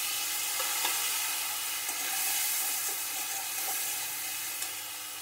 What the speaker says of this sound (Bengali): দেখো আলু কাটা একটু ভেজে নেব